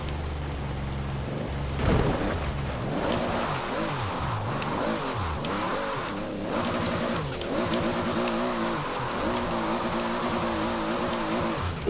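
Toyota Supra engine in Forza Horizon 4 roars steadily, rising and falling as the car accelerates and shifts, a loud continuous growl with revving swells and no talk over it.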